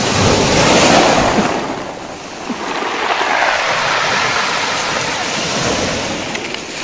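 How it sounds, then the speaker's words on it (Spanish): Mediterranean sea waves wash against stones on the shore in a steady, broad roar. The surge swells and recedes, and wind buffets the microphone. Nobody speaks. "Voy a intentar grabar el sonido del chocar de las piedras con el mar."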